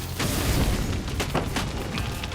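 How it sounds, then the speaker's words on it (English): Rapid, booming blasts fired by a character shooting while jumping in Psychonauts 2, a steady, dense barrage of thuds and bursts with no voices. "Oh, I can shoot while I'm jumping, too."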